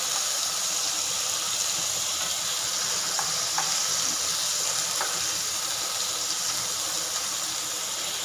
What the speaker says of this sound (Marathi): आपल्याला एकदम बारीक ह्याच्यावर लाईट ब्राऊन कलर येईपर्यंत त्याला फ्राय करायचं